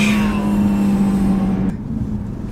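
An Audi RS3 engine in sport mode drones steadily at a low pitch, then the sound drops off abruptly partway through, leaving quieter rumble.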